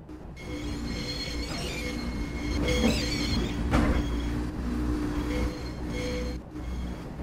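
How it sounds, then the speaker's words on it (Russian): A train rolls along in Garry's Mod with steady rumbling and squealing wheel tones, moderately loud and continuous, with sharper screeches around the middle and no talk. "Ай, Вася, ты че трогаешь мой состав?"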